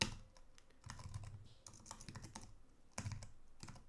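Quiet typing of code on a computer keyboard, with irregular clusters of key clacks and short pauses between bursts, close and soft, with no voices.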